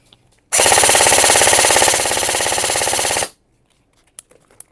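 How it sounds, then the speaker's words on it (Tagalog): G&G STP45 airsoft gun firing full auto, a loud close burst of rapid, evenly spaced shots lasting almost three seconds and then stopping abruptly, followed by a few faint clicks and handling sounds. "Okay, firing. Full auto."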